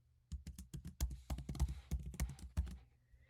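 Someone types on a computer keyboard at close range, giving about fifteen crisp, uneven clacks over three seconds before the tapping stops.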